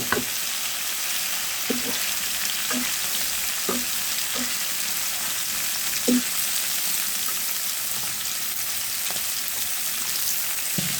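Tomatoes fry in a pan for a stir-fried singhi fish dish, giving a steady, dense sizzle throughout with occasional soft scrapes and knocks of a stirring spoon, fairly close and with no talk.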